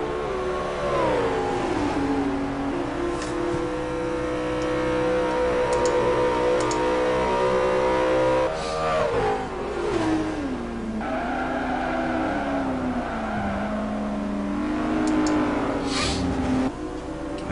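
Race cars, including a Camaro, running on a track in a racing video game, a continuous close engine drone with rising and falling revs and gear shifts, occasional tire noise, no talk.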